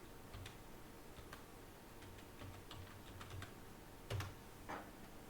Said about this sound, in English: Let's try typing it in here.